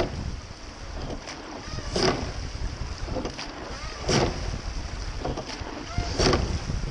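A masters crew rows a boat, the oars pulling through the water in steady strokes about every two seconds, each catch rising out of constant wind and water noise.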